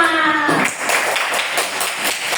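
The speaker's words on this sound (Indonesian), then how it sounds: "Sekarang ibu pengen minta tepuk tangan yang keras sekali buat kita semua." A classroom of students clapping loudly, an uneven burst of hand claps following a sustained tone, with faint voices underneath.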